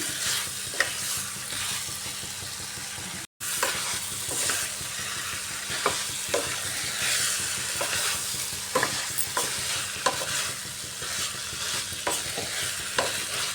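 Potato, pointed gourd and chickpeas fry in spices in a pan, a steady close sizzle broken by repeated scrapes and clinks of a spoon stirring, with one brief dropout partway through and no talking.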